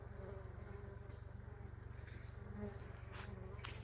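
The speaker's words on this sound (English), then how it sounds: "it really is alive with bees" Bees buzz around flowering plants on a homestead, a steady close hum with wingbeat drone rising and fading as insects pass, outdoors with no talk.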